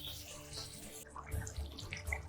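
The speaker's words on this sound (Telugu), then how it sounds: "కొంచెం అయితే వాటర్ యాడ్ చేసుకుందాం, మంచి గ్రేవీ వస్తుంది." Water is poured into a pan of paneer masala gravy, a soft, brief splashing and trickle heard quietly up close.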